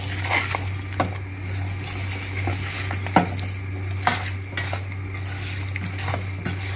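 Fried colocasia stirred in an oiled pan, with a quiet sizzle under repeated metal spoon scrapes and clinks against the pan, close by and without speech.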